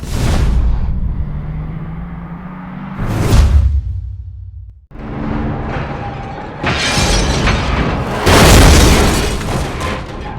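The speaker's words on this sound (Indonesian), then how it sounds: "mobil Jack tiba-tiba meledak" A race car explodes after crashing in a racing film: heavy booms, whooshing blasts and shattering debris roar loudly in several surges across the scene.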